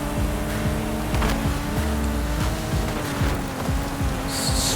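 1991 Toyota Chaser GT Twin Turbo in Forza Horizon 5, its engine revving hard and shifting through gears in a repeating rise-and-drop pattern, loud and steady with road and tire noise underneath.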